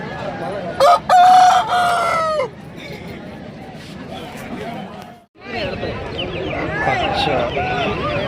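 Native roosters crow loudly at a Friday rooster market in Anakapalli district, one long crow near the start followed by a busy din of clucking birds and chattering crowd voices throughout.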